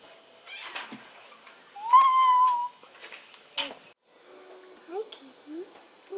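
A pet cat called Kitty meows several times at close range in a home. The calls are short and rising, one of them longer and louder, and someone speaks between them.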